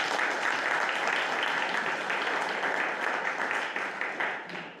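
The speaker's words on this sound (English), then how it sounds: "give a round of applause for them." An audience at an all-hands employee meeting applauds a team, with dense, steady clapping that holds throughout and fades slightly at the end.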